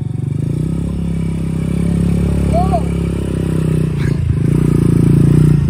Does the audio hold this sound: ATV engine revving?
yes